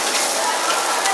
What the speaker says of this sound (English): So he has to fry it and keep the heat as high as possible